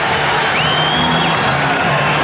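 Crowd noise in a packed basketball arena during a timeout of a 1983 NBA Western Conference Finals game, Spurs against Lakers, a steady loud roar with faint whoops rising over it, continuous throughout.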